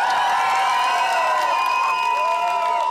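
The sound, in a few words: crowd applauding and cheering for a karaoke contestant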